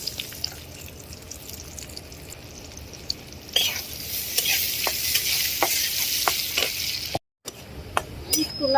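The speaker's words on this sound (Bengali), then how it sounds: "এখন রসুন পেঁয়াজ দিয়ে দিব।" Garlic and onion hit hot oil in a wok as a tempering for red lentils, a steady loud sizzle with stirring scrapes, rising sharply partway through and cutting out briefly near the end.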